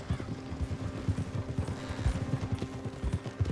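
Horse hooves clip-clopping at a steady trot in Red Dead Redemption 2, a continuous close rhythm of dull thuds with faint background murmur.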